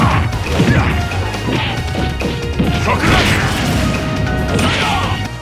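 A video game character's hits and shield impacts come through as loud, punchy crashes and thwacks in quick succession over busy game effects.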